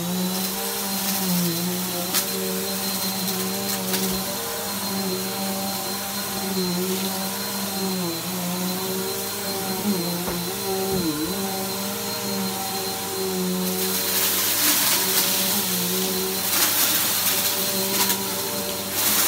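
Shark and Bissell vacuum cleaners run together in a steady, continuous motor whine and airflow roar, with a slight waver in pitch and a brighter hiss toward the end, and no voices.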